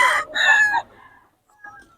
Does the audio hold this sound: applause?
no